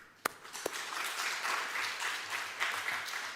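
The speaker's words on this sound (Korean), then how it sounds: "감사와 영광의 박수 올려드립니다." A church congregation breaks into soft, sustained applause after a couple of isolated early claps, a gentle wash of clapping at moderate distance with no talking.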